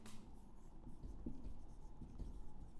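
Chalk or marker writing out a maths equation on a classroom board, a soft continuous scratching and rubbing close by, faint and steady for a few seconds without speech.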